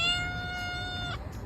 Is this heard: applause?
no